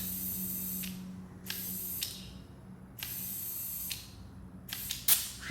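Air hose topping up a car tire on a 2015 Toyota Corolla from 29 to 32 psi, heard as four or five short bursts of hissing air, about a second each, separated by brief pauses over a low background hum.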